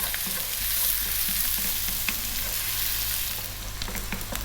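Onions sizzle and crackle steadily in a hot pan, a busy continuous frying hiss with small pops, close up and without talking.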